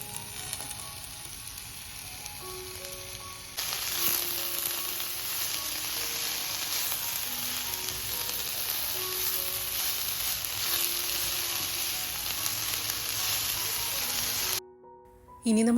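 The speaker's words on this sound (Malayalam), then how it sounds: "ഇതിലേക്ക് അരിഞ്ഞു വെച്ച കേ ലീവ്സ് കൂടെ ചേർത്ത് നന്നായി ഒന്ന് ഇളക്കി കൊടുക്കാം." Chopped kale leaves stir-fried in a pan for kale thoran, giving a steady, loud sizzle that runs throughout with faint stirring underneath, stopping abruptly near the end.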